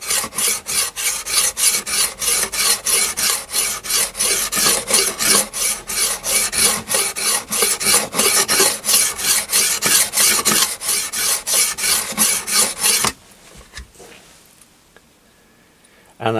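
An axe edge is honed on the fine side of a diamond sharpener, with rapid, rhythmic rasping strokes close up for about thirteen seconds before they stop, leaving near silence.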